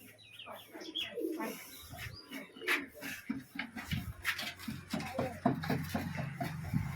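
Several pigeons coo and chirp close by as their coops are opened, soft rhythmic coos repeating throughout alongside rustling, with someone talking faintly in the background.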